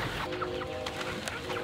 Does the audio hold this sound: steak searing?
no